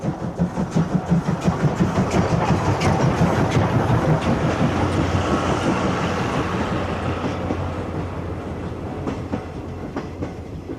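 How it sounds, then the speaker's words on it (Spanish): A preserved Japanese steam locomotive running on rails, with rhythmic clickety-clack of wheels over rail joints and a rolling rumble, loud and close at first and gradually receding. "aparecen numerosas locomotoras japonesas a vapor que han sido preservadas"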